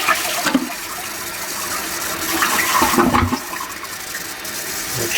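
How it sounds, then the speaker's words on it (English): Toilet half flush through a Duoflush dual flush valve: a sudden close rushing gush of water swirling down the bowl, swelling to a louder surge midway, then settling into a quieter steady trickle as the tank refills. "lift up for the half flush."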